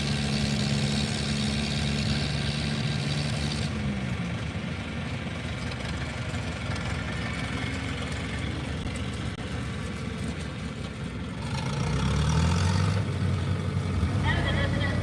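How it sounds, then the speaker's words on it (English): Antique tractor engines idle and rumble steadily at an outdoor tractor pull in Marshallville, Ohio, a continuous low drone from a mid distance with a louder engine rising briefly near the end. "We are antique tractor pulling here in Marshallville, Ohio."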